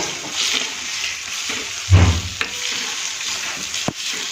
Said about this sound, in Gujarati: હળદરને આપણે તેલમાં થોડી ફ્રાય થવા દઈશું